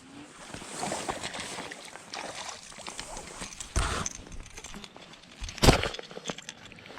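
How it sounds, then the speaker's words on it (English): A motorboat passes behind an angler on Kentucky Lake, its engine a low, continuous rumble at middle distance, with wind buffeting the microphone in a couple of sharp gusts. "I got a boat behind me"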